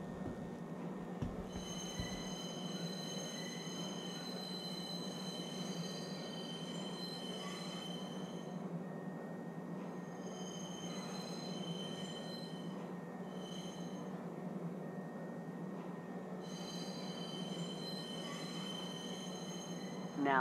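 A train runs in the Lorville city of the video game Star Citizen, arriving at the TISA Spaceport: a steady, continuous rumble of rolling wheels with sustained high metallic whines and squeals, loud and close throughout.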